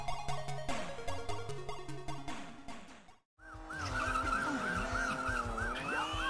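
A Porsche chase in Chase HQ on the ZX Spectrum: loud, continuous electronic engine and skid tones with busy beeper-style music, a brief drop to silence midway, then a wavering, siren-like whine.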